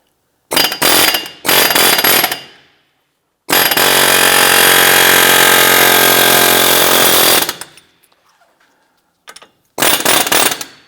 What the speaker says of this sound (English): we're going to use an air hammer here or punch to go ahead and loosen this out